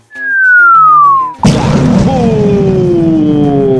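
A descending whistle falls in pitch before a sudden, loud boom as a homemade missile explodes violently, followed by a sustained rumbling roar with a long, fading tone.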